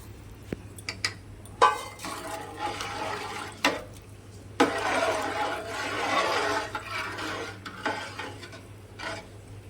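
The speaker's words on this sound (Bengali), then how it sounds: "পরিমাণ মতন জল দেবো, যতটা চাল তার ঠিক 4 আঙ্গুল উপর পর্যন্ত জল দিতে হবে।" Water poured into a pot of rice for spicy pulao, a close splashing gush in bursts with clinks of a utensil between, no speech.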